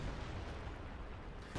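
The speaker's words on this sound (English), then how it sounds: "Forrest was quick to order the major to call artillery here to clear out the machine guns" Distant artillery fire from a Company of Heroes 2 battle, American forces shelling machine-gun positions, heard as a continuous low rumbling barrage with dense booms blending into one steady roar, no voices.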